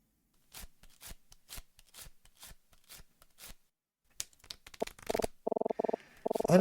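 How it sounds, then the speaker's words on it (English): Playing cards are riffled and shuffled back into a deck during a card trick in Detective Instinct: Farewell, My Beloved, heard as a quick run of crisp, evenly spaced flicks. Brighter chimes and tonal game effects follow. "now he's shuffling it back into the deck"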